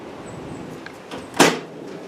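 Door opened in a workshop where soft plastic fishing baits are being made, with soft scuffs and a short, sharp latch-and-swing sound near the middle, fairly close, no talk.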